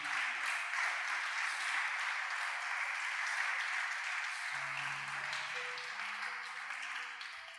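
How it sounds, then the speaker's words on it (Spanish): A church congregation claps together in sustained applause, a broad even patter that lingers for several seconds and thins out slightly toward the end, with faint tonal hum underneath. "Dale un aplauso al Señor."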